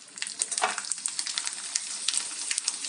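Potato chips frying in hot oil in a kadai, a dense, crackling hiss with constant small popping bubbles, close and steady throughout without speech.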